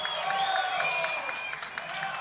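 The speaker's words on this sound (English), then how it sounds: "The crowd's loving it." Crowd applause and cheering at a racquetball semifinal in Fullerton, California, steady and moderately loud, with broadband clapping and scattered claps through the whole stretch while voices are heard over it.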